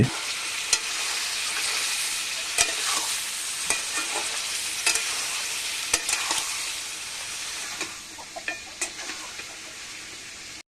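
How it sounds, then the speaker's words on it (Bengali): Ginger garlic paste and green chilies stirred in a frying pan for chicken pulao give a steady close sizzle, with scattered sharp scrapes and clicks of the spoon against the pan. "এখন ভালোভাবে নেড়ে চেড়ে এগুলোকে একটু মিশিয়ে নিচ্ছি"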